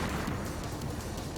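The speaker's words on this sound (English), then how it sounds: "I hear a significantly louder explosion and feel the aircraft shake wildly" A dense, rumbling explosion from the game Baldr Sky Dive, loud and continuous, filling the moment with a heavy low roar and no speech.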